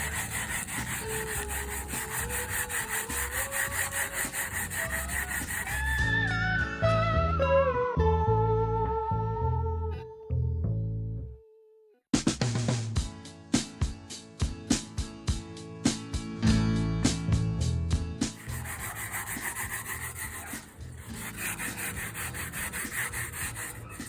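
A brush scrubs a greasy barbecue grill grate coated with Citrusafe cleaner: steady rasping back-and-forth strokes, then a brief pause and a quick run of sharp scraping strokes before the even scrubbing resumes, close up with no speech.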